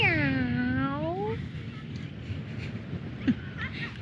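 A cat gives one drawn-out meow at the start, close and clear, followed by quiet outdoor ambience with a faint wind rumble in a park at Sterling State Park, Michigan.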